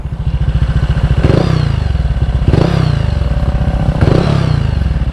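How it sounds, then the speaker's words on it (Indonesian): Honda Vario 125 scooter exhaust, a loud close rhythmic putter with fast pulsing beats, swelling in three brief blips of throttle. "Suara knalpotnya tergolong kecil sih, padahal ini kopi-kopian gitu loh"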